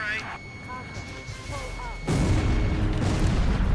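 In the video game Ace Combat 5, howitzer artillery fire erupts as a sudden heavy boom that turns into a loud, sustained rumbling roar, following quieter whistling and tonal game sounds.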